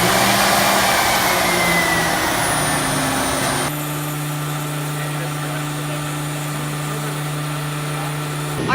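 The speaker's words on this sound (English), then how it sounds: "this is our new CNC router. Trying to set it up and see whether or not it's gonna work" A new CNC router runs during setup, a loud broadband whirring roar that drops after a few seconds into a steadier, humming spindle drone with a strong low tone, close by and alone.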